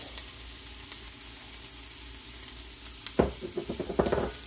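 Finely chopped onions hit melted butter on a griddle, a faint steady sizzle that grows louder near the end with quick scraping and tossing sounds, no voices.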